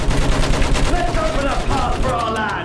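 Battlefield 1 video game gunfire: dense, continuous shooting and battle noise fills the whole stretch, loud and close, with voices shouting underneath.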